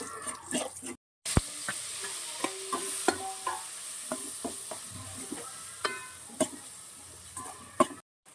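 Spices tipped into a hot frying pan and stirred while making egg biryani, giving a steady close sizzle broken by repeated spoon clinks and scrapes against the pan, with a brief silence near the start and no talking.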